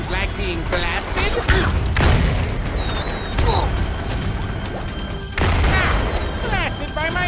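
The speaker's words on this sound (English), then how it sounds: "Blasted by my own cannon!" Cannon blasts in the game Skylanders Trap Team: a few heavy booms arrive in quick succession, loud and close, mixed with game music and character voices.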